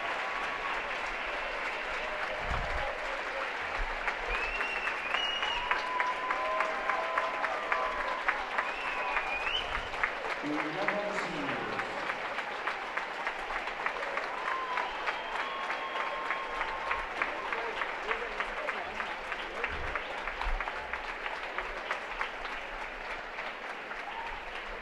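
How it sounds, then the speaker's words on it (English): Steady applause from the crowd at a college swimming championship as seniors are honored, sustained clapping that rises slightly mid-way with scattered whoops from the stands and no talking. "They honored the seniors here for a round of applause."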